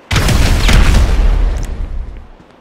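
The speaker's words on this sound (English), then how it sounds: "An explosion will tend to do that." An explosion in Grand Theft Auto 5 during a building raid: one heavy, booming blast that bursts in suddenly, then rumbles and fades over about two seconds.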